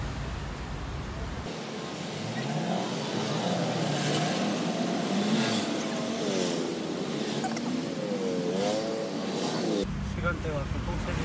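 Engine drone and road rumble from inside a hotel tuk-tuk in Bangkok, continuous and fairly loud, with people speaking over it throughout.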